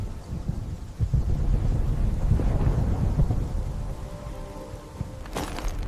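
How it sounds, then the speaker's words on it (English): Thunderstorm with deep rolling thunder and rumble, a heavy low roar sustained throughout, with a brief sharper crack near the end. "The storm was coming."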